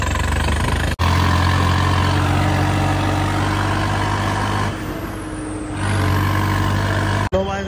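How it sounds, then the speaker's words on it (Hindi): A heavy Swaraj diesel tractor engine with a new silencer drones steadily nearby with a deep, throbbing exhaust note, dipping briefly in the middle before resuming. "ट्रैक्टर गया आपको सिलेंसर जो लग गया इसकी आवाज़ सुनाऊंगा कैसी है"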